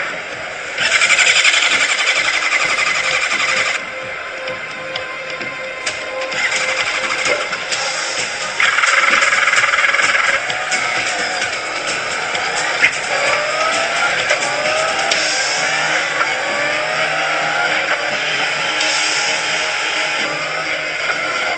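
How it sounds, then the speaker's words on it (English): A newly finished motorcycle's engine runs on a final-inspection test platform, giving a continuous mechanical drone with rising and falling whines and occasional squeals that hold steady and fairly loud for about twenty seconds, with no talking. "each finished motorcycle is fired up for the first time and ridden onto a special test platform"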